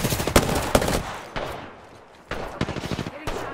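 Rapid automatic gunfire rattles in Apex Legends, close and loud, with sharp bursts of shots, a short lull, then more quick volleys.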